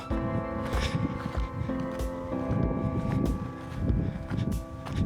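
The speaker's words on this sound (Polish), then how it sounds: "Fajnie słychać jak e, pracują w silniki elektryczne" Electric motors drive the carts of a new Valley irrigation system, giving a steady low mechanical hum with faint whining tones and some rustling on top. The sound carries on evenly at moderate loudness, and no one speaks.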